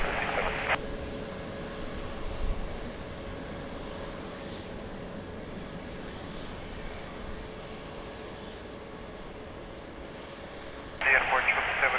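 An airplane landing on runway 02 at Lisbon Airport makes a steady, distant jet engine roar that holds evenly throughout, with short bursts of radio chatter at the start and end.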